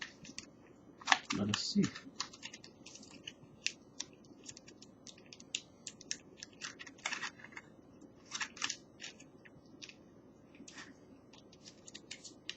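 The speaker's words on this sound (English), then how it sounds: "So I'm trying to tear this open now." Box of Seven Oceans emergency rations being torn open, a quick burst of cardboard ripping followed by scattered soft crinkles and taps, close and faint, with a voice speaking briefly.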